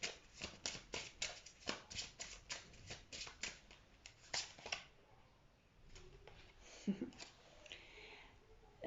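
Tarot deck shuffled by hand before a final card is drawn, a quick run of crisp riffling card flicks at a steady rhythm that slows into softer taps and handling sounds, close and quiet.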